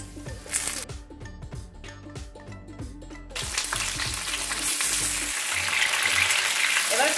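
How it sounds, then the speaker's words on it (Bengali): Pointed gourd frying in hot mustard oil, giving a strong continuous sizzle that builds and spreads into a loud hiss, with rhythmic tapping and stirring clatter early on. "সর্ষের তেল দিচ্ছি, পটলগুলোকে ভেজে নেব।"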